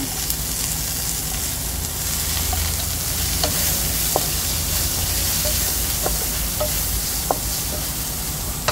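Onion sizzling and frying in a hot pan while cooking pinakbet. A steady loud hiss runs throughout, with occasional stirring clicks and small pops.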